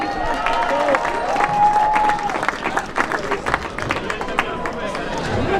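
A crowd at a festival prize-giving applauds a volunteer, dense continuous clapping with some cheering, mixed with an announcer's amplified voice.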